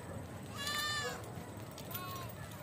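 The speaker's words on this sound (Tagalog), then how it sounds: "May kambing sa Hillsdale." Goats in Hillsdale bleat twice in quick succession, a near wavering cry followed by a shorter one, over outdoor background hiss.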